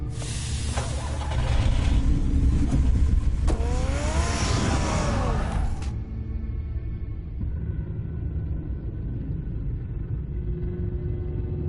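Batmobile-style car in a Batman video game, a loud roaring engine rumble that swells and pulls away with a rising whine, then cuts off at about six seconds into a quiet low hum.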